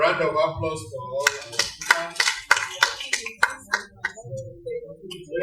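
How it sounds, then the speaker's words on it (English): Audience applause for speakers at a workshop hall during the 46th AGSM plaque presentation, scattered hand claps building into uneven rhythmic clapping over about five seconds, with some voices mixed in. "So, a round of applause for all"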